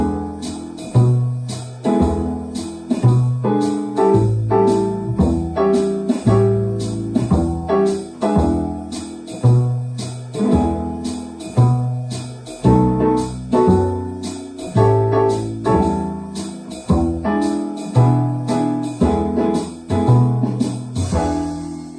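Bass guitar alternates between root and fifth on each chord, two notes per bar, in a steady plucked rhythm of distinct low notes, loud and close and played alone.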